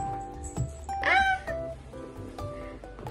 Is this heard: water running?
no